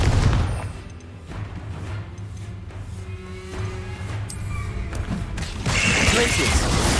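Fiery Confringo blast spells explode repeatedly during Hogwarts Legacy combat on hard difficulty: dense booms and crackling bursts over constant game noise, with a voice shouting now and then.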